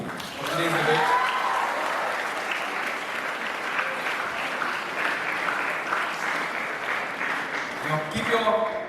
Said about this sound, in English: Keep your claps going on